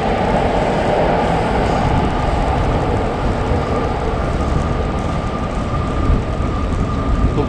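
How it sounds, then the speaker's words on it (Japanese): A Shinkansen bullet train runs through the Shiodome district of Tokyo, heard as a loud, continuous, steady rumble lasting several seconds from a cyclist's position nearby, with no voices. "新幹線が走ってます。"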